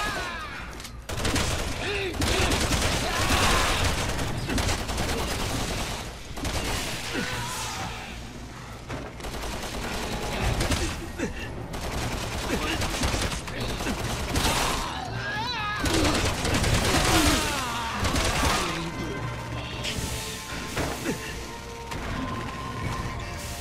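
Gunfire in the Resident Evil 6 video game, with dense bursts of shots, crashes and impacts layered into a loud, continuous battle din. Voices speak intermittently over the combat.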